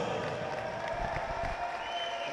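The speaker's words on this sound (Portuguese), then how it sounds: "sobe aplausos" Applause and light cheering from a stadium crowd at a Supertaça Francisco de Almeida 2022 match between Interclube and 1º de Agosto in Angola, a steady, faint, distant wash of clapping greeting the team captain.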